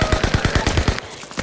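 Rapid automatic gunfire in a video game, a fast burst of about ten evenly spaced loud shots lasting roughly a second, followed by a quieter tail.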